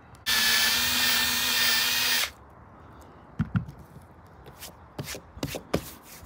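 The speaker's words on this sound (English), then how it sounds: "This is the sticky stuff I'm going to hit one more time with the eraser wheel." A power drill spins an eraser wheel against adhesive on a 2008 Jeep WK roof, a loud high whine for about two seconds, followed by quieter scattered rubbing, taps and handling knocks.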